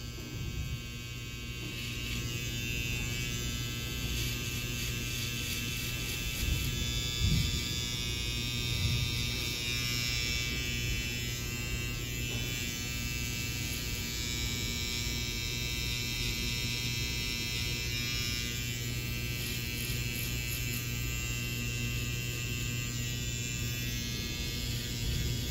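Oster Octane hair clippers with detachable blades cut a quick neck taper, buzzing steadily and close for the whole stretch, with faint changes in tone as the blade moves through the hair and no talking.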